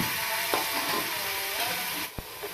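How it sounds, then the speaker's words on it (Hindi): Onions fry in a cup of hot ghee, giving a close, continuous sizzle with gentle stirring and a couple of brief knocks against the pan, with no talking. "सबसे पहले हमने घी डाल लेना है 1 कप, और इसमें प्याज डाल के हमने इसको ब्राउन कर लेना है"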